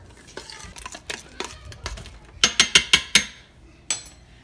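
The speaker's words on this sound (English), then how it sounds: "And then I am going to stir." A spoon scrapes and clinks against the pot of an Instant Pot while stirring cooked skin-on apples with sugar, giving a run of sharp, close knocks in a loose rhythm with softer scrapes between them.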